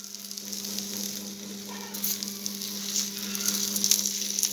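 Roti frying in hot oil on a griddle gives a steady, moderate sizzle with soft crackling that swells slightly toward the end, with no voices over it.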